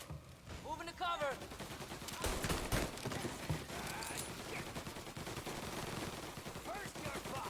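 Gunfire in Mafia: Definitive Edition crackles in rapid, continuous bursts from several weapons, dense and fairly distant-sounding, while voices shout over the shooting.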